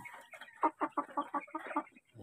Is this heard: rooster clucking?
yes